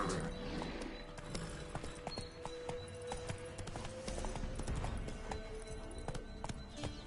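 Hooves of Roach, a horse in The Witcher 3, clip-clop in a steady rhythm across the whole stretch, close and fairly quiet, with faint game ambience behind.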